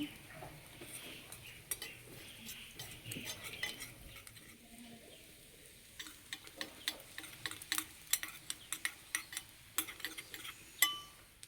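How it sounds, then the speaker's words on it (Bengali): Whole cumin and a pinch of asafoetida crackle faintly in a little ghee in a ladle, making a soft steady sizzle with small irregular ticks and pops that grow busier toward the end. "এখানে একটা হাতা নিয়েছি, হাতার মধ্যে একটু ঘি নিয়েছি। এবার ঘিয়ের মধ্যে দেবো গোটা জিরে। দেবো অল্প একটু হিং।"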